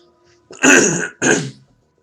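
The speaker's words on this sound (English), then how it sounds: "I'm so sorry that I'm coughing up." Two short, forceful bursts close to the microphone, like throat clearing or a brief cough, separated by a quick pause.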